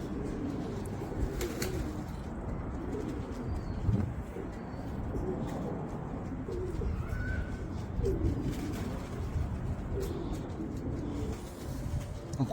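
Pigeons coo softly and repeatedly outdoors at a rooftop loft, their low calls recurring over a constant background murmur with faint chirps.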